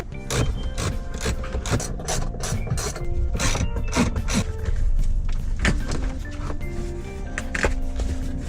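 Rapid mechanical clicking of a ratchet with a 12mm socket removing seat bolts in a 1990–91 Honda Civic, repeated in bursts over a steady metallic hum, fairly close and continuous.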